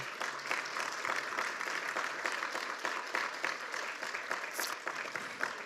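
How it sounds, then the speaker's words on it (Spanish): A church congregation applauds with sustained, steady clapping from many hands, fairly distant and continuous throughout, with no talk over it. "Dale un aplauso al Rey de Reyes, por favor."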